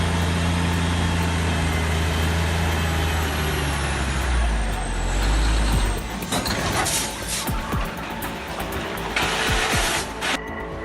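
A truck rolls in loud and close, its engine rumbling and droning down, followed by sharp hissing air brake bursts and clattering mechanical noise.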